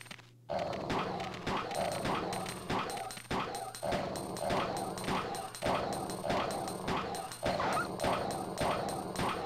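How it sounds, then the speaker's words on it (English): Dogs in a Resident Evil 2 mod game bark and yip in a rapid, repeated series of sharp, steady barks continuing throughout, fairly close and loud. "There's also 100 dogs."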